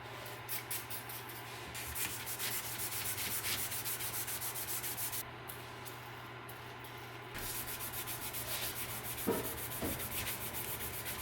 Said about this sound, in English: I'm going to clean it with some Scotch-Brite pads